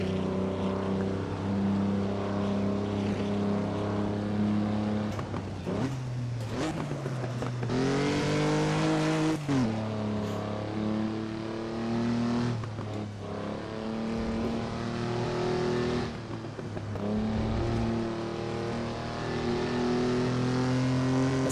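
A Formula Junior race car in Assetto Corsa, heard onboard at Feldbergring, drones loudly and steadily with a buzzing engine note that climbs through the revs, drops sharply at a gear change, then climbs again.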